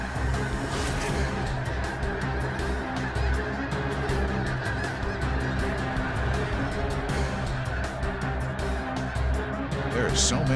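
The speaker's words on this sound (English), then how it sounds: "There are so many geese together. The noise level is unbelievable." A large flock of snow geese honks continuously in Saskatchewan, hundreds of overlapping calls forming a dense, loud chorus that never lets up.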